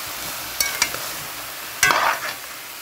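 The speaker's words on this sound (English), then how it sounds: "You don't want it to burn, so make sure you give a little stir around." Brown stew chicken gets stirred in a pot, with a few quick scraping strokes of the spoon over a low background sizzle, the last stroke longest and loudest.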